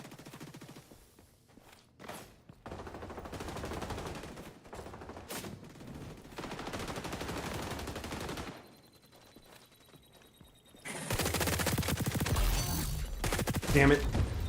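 Rapid shotgun blasts and gunfire in the online shooter XDefiant, sharp repeated bursts that turn loud and dense near the end, with footsteps and game effects scattered throughout.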